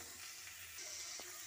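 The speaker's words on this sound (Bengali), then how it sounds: "নুন দিয়ে এটাকে আমি ভালো করে ভেজে নেব।" Soya chunks and potato frying with salt in a pan give a faint, even sizzle and hiss throughout, with a small pop near the end and no voices.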